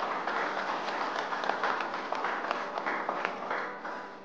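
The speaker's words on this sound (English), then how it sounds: "I think you should give yourselves a little bit of a clap for that" Contestants at the IAM Future Chef Goa 2017 cooking competition applaud themselves. The clapping is steady and moderately close, a dense patter of many hands with no speech.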